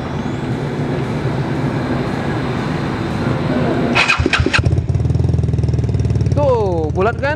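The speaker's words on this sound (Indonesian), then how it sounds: "Kita coba dengar ya bunyinya, Polini kayak apa, karena Polini ini adalah knalpot yang saya suka banget bunyinya ya." A Vespa Sprint scooter engine fitted with a Polini exhaust revs loudly up close, a steady throbbing idle jumping into sharp revving bursts, with a voice talking over the engine.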